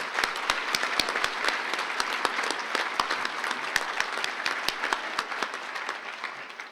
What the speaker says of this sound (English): Let's give another applause for all 4 of our scholarship recipients.